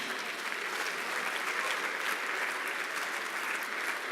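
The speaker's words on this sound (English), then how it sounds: "Please give another round of applause for all our winners tonight." An awards-ceremony audience at an insurance industry gala applauds its winners, a dense, steady wash of many hands clapping that holds at an even level throughout, with no speech over it.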